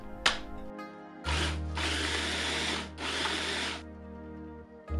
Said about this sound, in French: à l'aide d'un mixeur, on hachera les piments et l'ail grossièrement